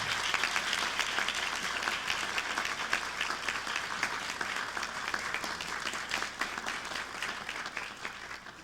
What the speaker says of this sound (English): Give yourselves and this great cabinet and leadership a round of applause.